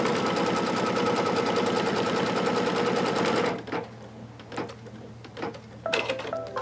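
An embroidery machine stitches at a rapid, even rhythm, close and loud, for about three and a half seconds, then stops and leaves scattered clicks and handling sounds.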